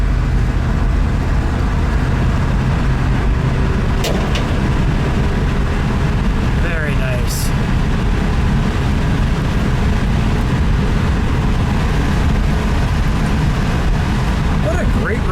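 A 1973 Ford Maverick with a 302 V8 drives along a country road, its engine and road noise a loud, steady low rumble from inside the car, with brief talk over it.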